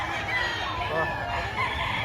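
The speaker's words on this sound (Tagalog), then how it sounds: "Napakaraming manok." Dense chorus of many chickens and crowing roosters at a busy weekly poultry market in Padre Garcia, Batangas, a steady loud din of overlapping clucks and crows with crowd murmur underneath.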